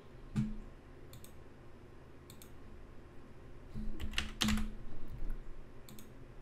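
Quick bursts of clicking on a computer keyboard while a Twitter username is typed, short clusters of keystrokes separated by pauses, close and clear with no speech.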